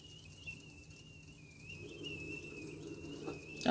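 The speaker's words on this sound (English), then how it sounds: "Now if you hear something whistling, that's my kettle" Faint steady whistle of a stovetop kettle in a home kitchen, holding one thin high tone throughout while low rumbling background noise builds toward the end.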